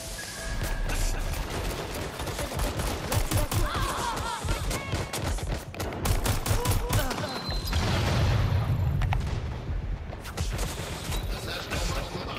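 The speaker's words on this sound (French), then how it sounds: "Qui me tire dessus." Rapid gunfire aimed at the player in Watch Dogs: Legion on PS5, loud repeated shots and bursts crackling through a dense game soundscape over about twelve seconds.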